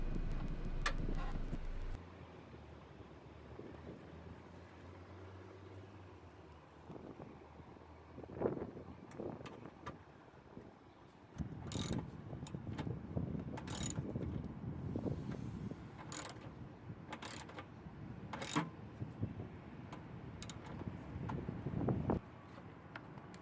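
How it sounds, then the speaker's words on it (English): A retaining bolt being tightened on a Ford Mustang air filter housing, close clicking ratchet strokes in a run of short, sharp bursts in the second half, with light wind noise outdoors. "Tighten retaining bolt."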